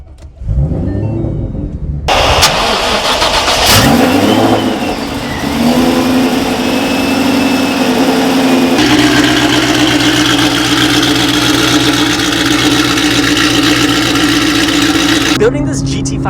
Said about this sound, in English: Let's get a little cold start in.